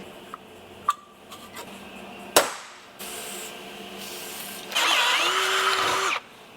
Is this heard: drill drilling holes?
yes